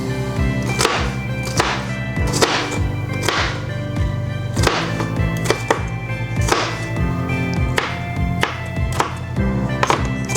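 A sharp kitchen knife chops through lasagna ingredients on a cutting board, a steady run of crisp, close thunks repeating every second or so, with a faint hum of the kitchen underneath.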